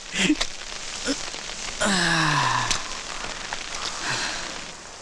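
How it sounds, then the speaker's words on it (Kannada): Rain and wind make a steady hiss of moderate loudness, with scattered patters and a brief descending tonal sound in the middle. "ಈ ಮಳೆಗಾಳಿಗೆ ಏನು ಕೇಳಿಸಲ್ಲ ರೀ"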